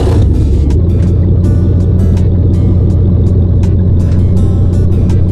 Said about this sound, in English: let's start the engine and check out the sound.